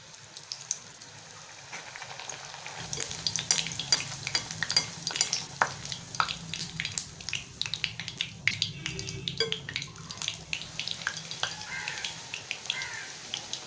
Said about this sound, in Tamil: இப்போ நம்ம பூரியை போட்டுக்கலாம்.